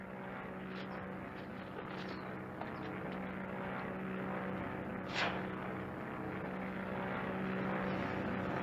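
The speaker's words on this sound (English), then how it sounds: "The plane. Get out there." A propeller airplane drones overhead in an old 1940s serial, a steady low engine hum that holds throughout and swells slightly toward the end, with no speech over it.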